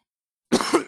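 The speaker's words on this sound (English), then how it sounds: "I think I just coughed up some ham" A single short, harsh cough bursts out after silence, close and fairly loud, with a throat-clearing quality.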